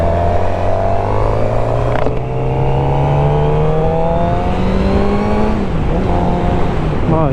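A 2016 Suzuki GSX-R750 L6 sportbike engine revs up loud and close on the road, pitch climbing steadily through a long pull, dropping at a gear change around two seconds and again near six before rising once more.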